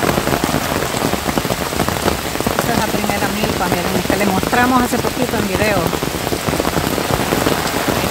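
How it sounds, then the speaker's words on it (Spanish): Heavy rain pours onto cornfields in Jujutla after a full night of rain, a loud, dense, unbroken hiss of drops, while someone talks over it. "esto está lloviendo a lo demasiado, como ha llovido toda la noche"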